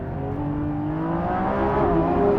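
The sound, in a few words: Lamborghini Revuelto V12 hybrid accelerating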